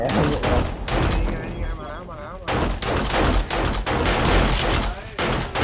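Rapid covering gunfire in the 7 Days to Die survival game, repeated loud close bursts of shots with a short pause midway, mixed with game effects and voices talking over it.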